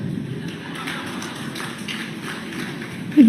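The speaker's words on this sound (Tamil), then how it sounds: "ஏன் கை தட்டுறீங்கன்னு எனக்கு தெரியல" An audience claps during a Tamil talk by Dr Parveen Sultana, a steady dense patter of many hands filling the hall throughout, with a faint voice rising at the very end.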